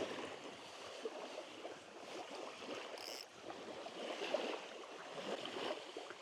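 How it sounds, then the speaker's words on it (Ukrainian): Strong waves wash and slap against a small fishing boat on open water in October, a steady broadband rush with gusts of wind and no talking. "Хвиля сильна, мабуть, буде забивати трішки камеру"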